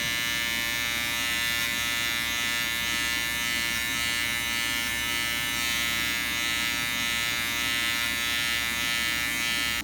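Electric hair clippers fitted with a 6 mm guard buzz steadily and loudly while cutting hair, with a constant high-pitched electric drone throughout and no talking.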